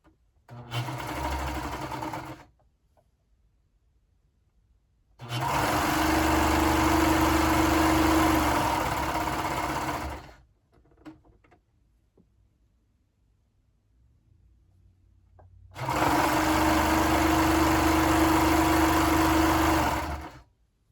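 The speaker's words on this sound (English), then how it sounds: "So I'm going to just sew up my side seam on this side." A sewing machine stitches a garment's side seam in three bursts, a short one followed by two longer steady whirring runs, with quiet pauses between them and no speech.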